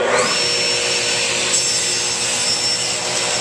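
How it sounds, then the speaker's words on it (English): A saw makes a test cut through a clamped wood waste block, a continuous loud whine and rasp of the blade running steadily throughout. "want to do a couple test cuts here to ensure that we've got it set properly"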